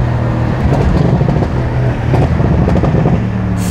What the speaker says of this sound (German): Der Porsche ist geisteskrank laut.